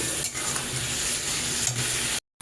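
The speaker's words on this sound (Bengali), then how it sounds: "এবার গ্যাসের আঁচটাকে হাই করে দিয়ে আমি সমস্ত মশলা দিয়ে সবজিটাকে একটু ভালোভাবে মিশিয়ে নেব" Vegetables with spices are stirred in a pan over a high gas flame, a dense steady sizzle with faint scraping of the spoon against the pan, cutting off abruptly at the end.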